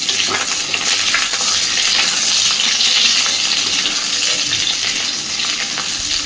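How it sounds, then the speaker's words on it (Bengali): Cut eggplant and potato frying in oil in a pan, a loud, close, continuous hiss and sizzle with faint crackles, no talking. "এইবার আমি দিয়ে দিচ্ছি কেটে রাখা বেগুন আর নর্মাল আলু।"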